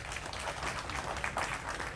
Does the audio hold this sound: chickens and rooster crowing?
no